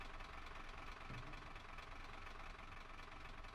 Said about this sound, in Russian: Для запуска правого дизеля открываем вентиль сжатого воздуха, даем полный газ и переводим двигатель из режима старт в режим Operate.